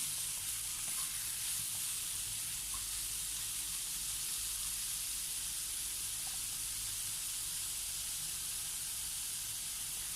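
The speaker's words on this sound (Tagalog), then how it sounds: "ilalagay ko po dito ang sliced pork Bailey. Yun po ang ginamit ko. So, igisa po muna natin ito." Sliced pork belly sautés in a pan, a constant hissing sizzle filling the whole stretch with faint occasional stirring ticks, steady and close, with no talking.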